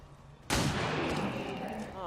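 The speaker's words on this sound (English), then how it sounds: "Nice, 2 shots in a row." A sudden loud gunshot from XCOM 2: War of the Chosen bursts in after a quiet moment, its blast and ringing tail filling the rest of the clip, with a faint voice near the end.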